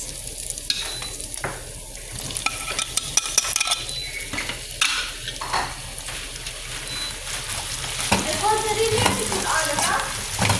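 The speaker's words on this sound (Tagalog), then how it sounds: "Igisa lang din natin yung ating sibuyas. At pagkagisa ng ating sibuyas, lagyan na natin yung ating kamatis." Onion and then tomato sauté in a hot pan for a squid dish, with steady sizzling, intermittent scraping and clinks of a utensil stirring, and the frying swelling louder near the end.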